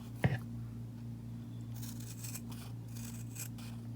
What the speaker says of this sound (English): we're going to take our scissors and we're going to start cutting some slits